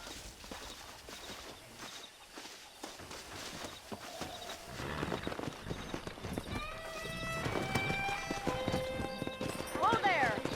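Horses in the video game Red Dead Redemption walk with a steady clip-clop of hooves, joined by whinnies and neighs that grow louder toward the end, with game speech and ambient sound underneath.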